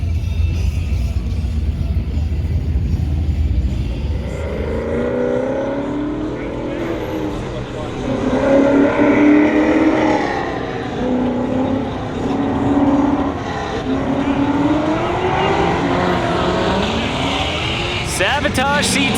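Sabotage C10 race truck at an NMCA drag racing event, its engine roaring and surging loudly as it drives past, the sound swelling and fading over several seconds, with an announcer talking over it.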